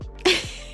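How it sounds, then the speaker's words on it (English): A single sharp sneeze bursts out close to the microphone, brief and on its own, with quiet before and after it. "Hold on, I'm gonna sneeze."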